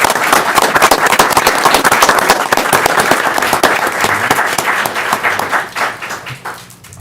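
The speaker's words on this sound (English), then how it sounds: "Please give them a round of applause." An audience at a city commission session applauds volunteers: loud, close, crackling clapping that stays strong for several seconds, then thins out and fades toward the end.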